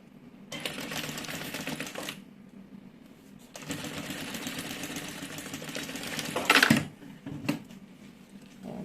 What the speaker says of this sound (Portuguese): eu vou fazer uma costura de um pé de máquina